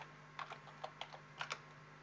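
Quiet, close computer keyboard typing, a handful of soft key clicks in two short clusters over a faint steady background hum.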